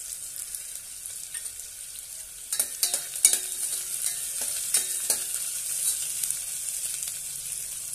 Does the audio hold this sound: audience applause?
no